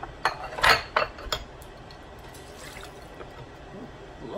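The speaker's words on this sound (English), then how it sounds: "this is some more juice. I'm going to pour that back in there" Seafood boil juice from a pot of snow crab and shrimp is poured back into the pot, opening with a few sharp clinks of utensils before settling into a soft, continuous liquid trickle.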